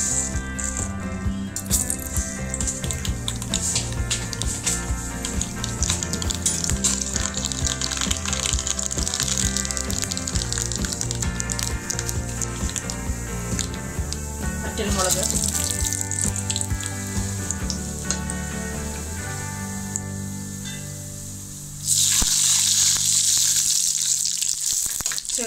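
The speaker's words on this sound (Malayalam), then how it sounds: "വെളിച്ചെണ്ണ ചൂടായിട്ടുണ്ട്, നമുക്ക് കടുകിട്ട് കൊടുക്കാം." Mustard seeds hit hot coconut oil in a pan, giving a dense crackling, popping sizzle that keeps going steadily, with a brighter burst of spatter near the end and no talk.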